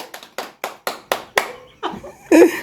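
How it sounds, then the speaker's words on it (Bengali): Several people clap in short bursts at a 50th wedding anniversary cake cutting, about six sharp rhythmic rounds of applause close by, ending in a louder, denser flurry with a little laughter. "হাততালি দাও"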